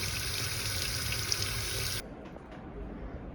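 Hot water gushes steadily from an apartment tap as a loud continuous hiss of running flow, then cuts to a softer trickle with faint drips near the end.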